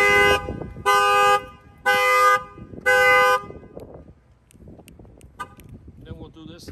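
A Corvette's factory car alarm blares in four regular bursts, each about half a second, followed by quieter clatter and shuffling.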